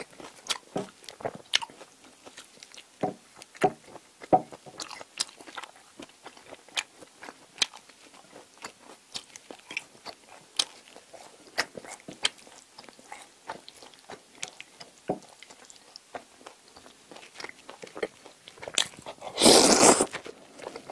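Crunchy baguette bread bitten and chewed at close range, with sharp, scattered crackling bites and crunches spread over a long stretch and a louder burst of crunching near the end, with no talk.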